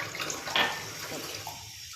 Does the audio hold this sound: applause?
no